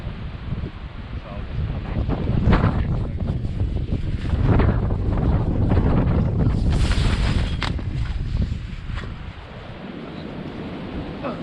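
Strong wind buffets the microphone on a riverbank during end-of-season barbel fishing near Bridgnorth, rumbling steadily for the whole stretch with gusts rising and falling.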